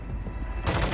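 Gunfire in Call of Duty: Modern Warfare II comes as a quick burst of rapid shots, loud and close, growing heavier toward the end of the moment.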